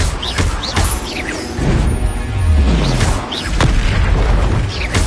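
Booming blasts of the Confringo explosive spell in Hogwarts Legacy, several loud crashing bursts spread across the stretch, ringing out over background game sounds without talk.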